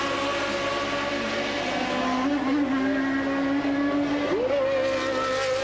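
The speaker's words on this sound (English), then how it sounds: "I hear Alan Jones's engine stuttering" A 1981 Formula 1 car at the German Grand Prix, its engine stuttering, heard as a steady distant engine drone whose pitch rises and wavers, with nobody speaking.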